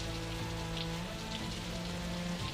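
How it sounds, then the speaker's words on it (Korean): Spring rain falls in a steady, soft patter, a continuous hiss of drops with faint low tones humming underneath. "봄비가 내리고 있었다."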